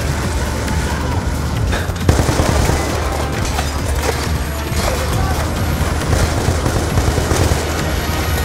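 Suppressive machine-gun fire in Call of Duty Black Ops 2 pours out as a dense, loud, continuous rattle of automatic bursts, with booming impacts layered throughout.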